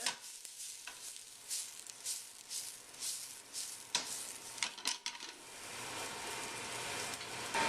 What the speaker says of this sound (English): Now while those onions are sauteing